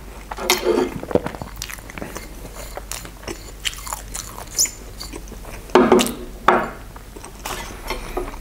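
Close-up chewing of potatoes with canned sprats in tomato, with bread and wasabi, for an ASMR eating session, giving soft repeated bites and wet mastication with occasional crunchy bursts and light clinks of dishes, no talking.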